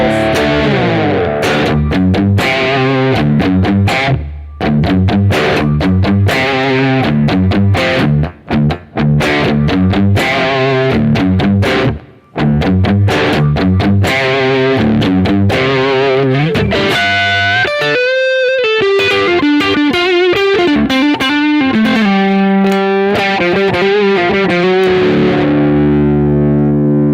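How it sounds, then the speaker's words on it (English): Electric guitar on its humbucker pickup alone, an Eternal custom T-Type with Hot Rod pickups, played through heavy distortion: loud chugging riffs and sustained chords, ending in ringing bends and held notes, with no talk. "this position here is the humbucker on its own, and that sounds great with a lot of filth."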